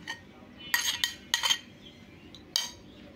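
Metal spoon clinks against a bowl while sweet dough is mixed with beaten egg, a few sharp close scraping taps in short clusters, otherwise quiet.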